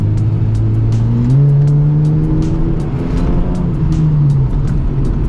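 A Ford AU Falcon engine is driven hard, a loud droning roar from inside the car that climbs in pitch as it revs up through a shift, with steady road noise underneath and nobody talking.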